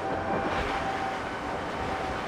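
A Mercury 450 Racing outboard engine running a boat at speed, a steady loud roar with wind and water rush, continuous and close.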